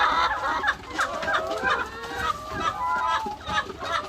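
Laying hens cluck and cackle continuously at close range, several birds overlapping in a busy farmyard chorus of about 400 hens.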